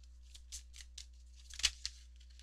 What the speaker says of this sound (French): on va aller chercher une deuxième carte pour vous